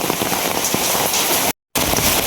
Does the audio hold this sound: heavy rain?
yes